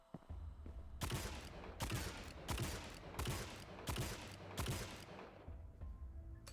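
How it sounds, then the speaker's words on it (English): Gunfire in the VRChat zombie shooter Zombies Trinity, five or six sharp bursts at roughly even, unhurried intervals over a low rumble, with no voices. "I think this one is a little more slow shooting."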